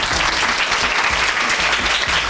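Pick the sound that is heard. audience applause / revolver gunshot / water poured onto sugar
audience applause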